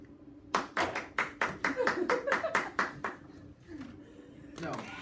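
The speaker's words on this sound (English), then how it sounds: "I'm clapping for you." One person claps hands during a trigonometry proofs lesson: a quick, even run of about a dozen crisp, close claps, then the clapping stops and talk continues quietly.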